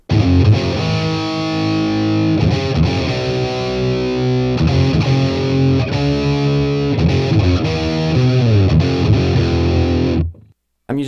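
Electric guitar played through a BOSS Katana MK2 amp with no added effects, chugging dense distorted riffs with palm-muted rhythm at steady loudness, cutting off abruptly near the end.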